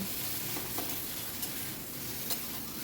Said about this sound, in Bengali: দিয়ে সব কিছু ভালো করে মিশিয়ে নিচ্ছি